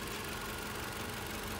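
A 2009 Toyota RAV4 Limited all-wheel-drive SUV engine idles steadily at close range, a continuous even rumble with a faint knocking texture and no talk over it.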